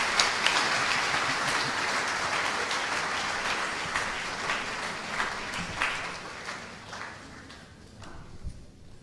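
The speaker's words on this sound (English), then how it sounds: "Another round of applause" An audience at a memorial lecture applauds, the clapping fairly loud at first with distinct individual claps standing out, then thinning and fading toward the end.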